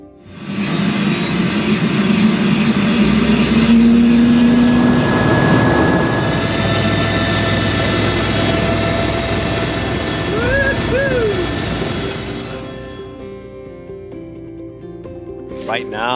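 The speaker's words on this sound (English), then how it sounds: "these helicopters are insane" Steady loud rotor and turbine whine of a helicopter close by, droning throughout with shifting tones.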